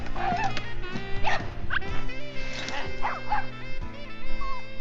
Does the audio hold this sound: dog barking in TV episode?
yes